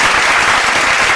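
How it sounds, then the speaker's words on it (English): Podcast audience applauds the fans, a dense, steady burst of clapping that stays loud and even throughout the short stretch. "Round of applause for the fans."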